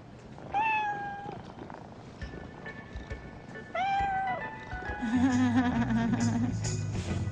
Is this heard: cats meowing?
yes